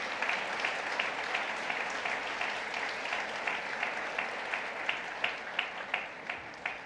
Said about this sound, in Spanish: denle ese aplauso al Señor de todo corazón